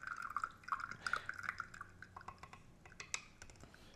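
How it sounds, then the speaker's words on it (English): Espresso drips and spatters unevenly from a spouted portafilter, a quiet run of quick irregular liquid ticks and trickles heard up close with no talk. "It's inconsistent coming out of the spouted portafilter."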